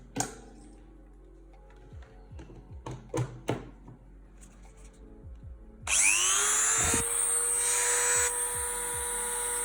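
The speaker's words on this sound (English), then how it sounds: "I need to sand this down with the Dremel tool" A handheld Dremel rotary tool sands old 18650 battery parts flat: a few light taps and clicks first, then the motor starts with a loud, steady high-pitched whine that runs close and unbroken to the end.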